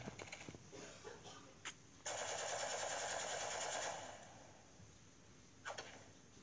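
A rifle fires in a stickman video game as a rapid burst of shots lasting about two seconds, fairly faint and alone, with a couple of softer clicks before and after.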